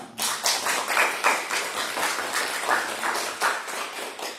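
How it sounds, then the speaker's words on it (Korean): Members of a church congregation at a Sunday service clap to welcome newcomers. The claps are moderate and fairly close, coming in uneven, loosely rhythmic bursts that carry on for several seconds with no one talking. "이곳에서 우리 박수로 환영하겠습니다"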